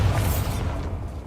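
The Bombarda blasting spell from Hogwarts Legacy goes off as a deep, rumbling explosion that rolls on with crackling debris and fades over about a second.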